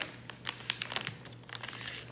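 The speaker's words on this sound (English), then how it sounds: "we're gonna go ahead and try to open it without tearing the sticker" Sealed plastic packaging on an NCT 127 Neo City DVD is peeled open, with close, irregular crinkling and crackling of wrap and sticker in short bursts, mostly alone with a low steady hum underneath.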